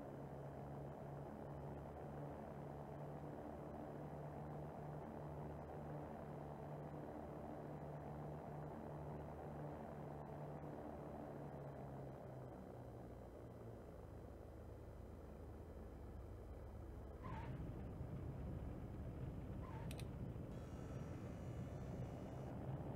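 A Cirrus SR20 propeller engine in X-Plane 11 drones loudly and steadily at takeoff power, a low, even hum with a few brief higher tones near the end and no speech over it.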